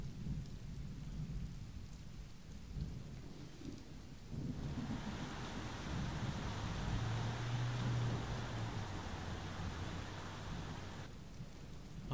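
Rain and rumbling thunder from the video game Road 96 form a steady heavy downpour with low thunder rolls, swelling louder midway before easing back.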